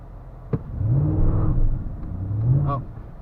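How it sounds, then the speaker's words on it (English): A 2006 Hemi car's exhaust swells in two low, rumbling revs during a launch attempt, heard from close by with a short click between them. "We're gonna do a little launch here. You guys are gonna hear the exhaust"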